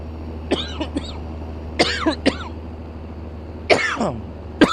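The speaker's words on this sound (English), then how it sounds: "My apologies for coughing in your ear" Three bursts of coughing from one person who choked on a sip of soda pop, each a cluster of two or three harsh hacks close to the microphone, over a steady low hum.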